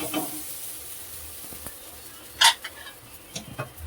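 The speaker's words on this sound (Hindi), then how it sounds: "और लग गया हमारा दाल में तड़का।" Tomato tempering being poured into cooked dal gives a brief sharp sizzle burst amid soft stirring and clinking pan sounds in a home kitchen, with a couple of smaller hisses afterward.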